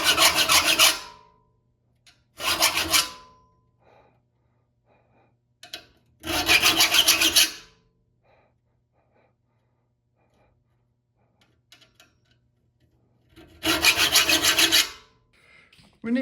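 A file rasping across the teeth of a crosscut saw during sharpening, four separate bursts of gritty strokes with quiet gaps between, close and fairly loud.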